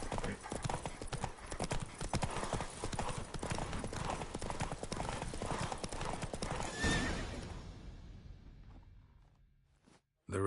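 A horse galloping in a race in The Witcher 3 video game, with rapid, loud, rhythmic hoofbeats and a whinny that slow and fade out toward the end, heard alone without talk.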